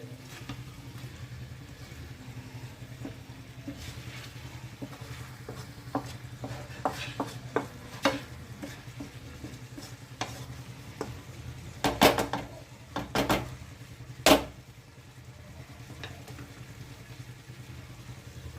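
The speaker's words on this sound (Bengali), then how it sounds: "খুব ভালোভাবে সব চিকেনটার সাথে মিশিয়ে নিচ্ছি সব মশলাগুলো" A spoon works chicken and spices around a pan over low flame, with scattered scraping clinks that grow louder and sharper midway, set over a steady low background hum.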